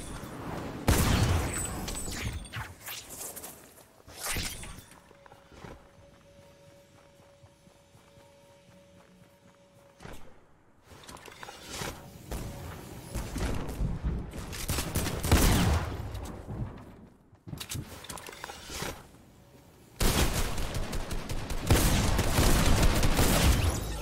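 Fortnite gameplay brings repeated bursts of gunfire, rapid volleys and single shots in loud clusters, with quieter gaps of footsteps and game mechanisms in between.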